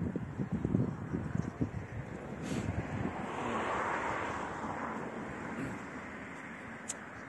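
Steady wind buffets the microphone outdoors in Quebec, Canada, rumbling and gusting throughout, strongest near the start, with a broad rushing hiss and no speech.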